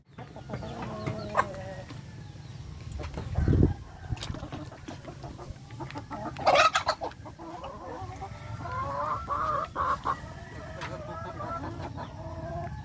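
Several chickens cluck and murmur nearby in scattered bursts, with a louder squawk partway through over a low background hum.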